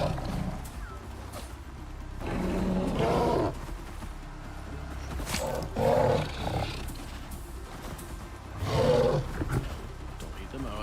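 A bear in the game Icarus gives several loud, rough growling roars in bursts amid game noise and people talking.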